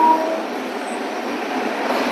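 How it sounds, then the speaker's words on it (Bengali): The Padatik Express rolls along at speed, its continuous loud rumble and rushing wind filling the carriage without pause, with a faint brief squeal near the start. "এখন আমাদের ট্রেন স্পিড করছে, এতটাই স্পিড যে স্টেশনটা স্কিপ করছে"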